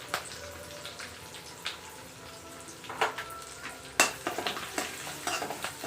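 Urad dal, curry leaves, dried chillies and asafoetida sizzling in hot oil for a tempering, a soft steady frying hiss with scattered pops and crackles that grow busier partway through, close by with no talk.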